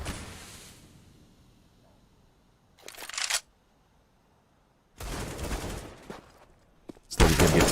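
Desert Eagle pistol fire in Counter-Strike, heard as loud bursts of gunfire in separate clusters with quieter gaps between, the last burst loudest and closest.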